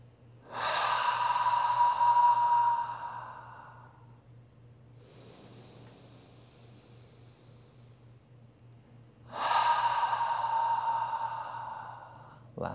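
Two slow, deep breaths drawn in through the nose during a guided meditation, close and soft, each a few seconds long with a quiet pause between them.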